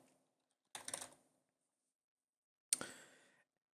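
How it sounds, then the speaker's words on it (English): Typing on a computer keyboard, two quiet short bursts of quick key clicks about two seconds apart, close and soft, with silence around them. "So I'll go ahead and type one in here."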